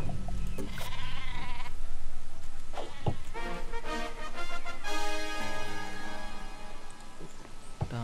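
A cartoonish super sheep weapon in Worms Revolution bleats repeatedly amid busy game sound effects and music, with sharp pops and a rising whine.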